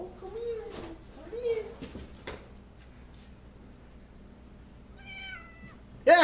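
A cat meows several times indoors, short wavering cries spaced across the stretch with quieter gaps between, plus a sharper, louder meow right at the end.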